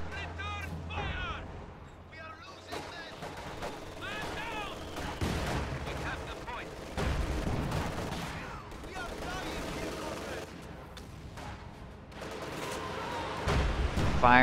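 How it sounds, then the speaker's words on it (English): A video game artillery barrage fires on a Panzer IV, with booms and gunfire crackling throughout, mixed with battle effects and someone talking over it. "It's firing on the Panzer IV."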